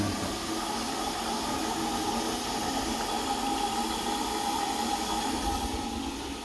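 Water drains steadily from a sink in a townhouse, making a constant rushing, gurgling hiss that holds at even loudness throughout.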